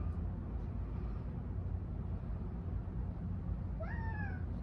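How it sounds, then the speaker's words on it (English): A single cat meow, rising then falling, near the end over a steady low background rumble; no talking. "That's my cat named Puppy"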